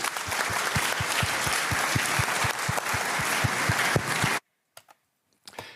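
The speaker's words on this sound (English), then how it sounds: "Let's give the panel a round of applause." Audience applause for a panel at the Munich Security Conference 2023: steady, dense clapping fills the hall for about four seconds, then stops abruptly, leaving a few faint stray sounds.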